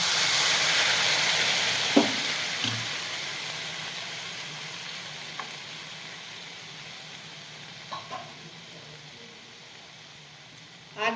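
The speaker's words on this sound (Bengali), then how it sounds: "এই গরম তেলটার মধ্যে আমি এই পেস্ট করা টমেটোটা দিয়ে দিচ্ছি" Tomato paste frying in hot oil for a Bengali chutney gives a steady broad sizzle that fades slowly over the clip, with a few soft clicks and spatters, and no talking.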